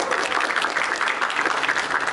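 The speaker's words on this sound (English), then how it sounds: "Please give her a big round of applause." An audience at a Rotary district conference gives a district governor continuous, dense applause throughout, loud and even, with no talking.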